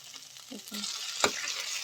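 Taro greens tipped into a hot pan with softened, fried tomatoes for a bombay duck fish dish, a brief rush of sizzling and a sharp clatter from stirring, close and fairly quiet.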